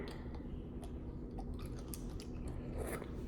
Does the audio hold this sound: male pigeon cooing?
no